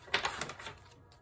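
A quick run of crisp papery clicks and riffles as tarot cards are shuffled close by, fading out after a second.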